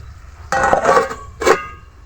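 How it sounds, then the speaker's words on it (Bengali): A cooking-pot lid lifts off during a fish curry (pabda), with a clattering metallic rustle of about one second followed by a second short clink, close by and otherwise quiet. "পনেরো মিনিট পরে ঢাকনা খোলা হচ্ছে"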